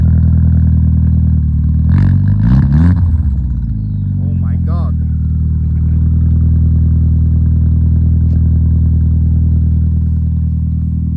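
A Seat Leon 4 engine revs loudly from inside the car while drifting on snow, a steady droning hum with sharp rising revs early on, a voice briefly exclaiming over it.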